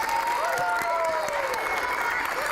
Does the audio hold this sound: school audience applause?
yes